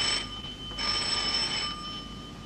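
An electric doorbell at a building entrance buzzes with a bright, steady ring in two bursts, a short one followed by a longer sustained ring, with no talk.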